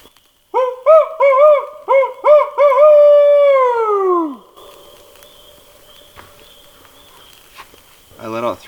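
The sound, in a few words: person imitating an owl call while camping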